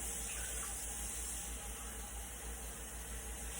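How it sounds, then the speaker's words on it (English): Steady running water from a tap, a continuous hiss with no talking, as six cups of water pour into a large saucepan. "it says to pour 6 cups of water into the large saucepan"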